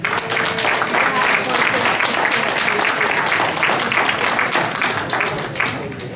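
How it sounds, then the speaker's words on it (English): Sustained applause from a crowd at a Hmong campaign kickoff event for a congressional candidate, steady and fairly loud throughout, fading slightly at the end. "clap your hands for Jenny Choi."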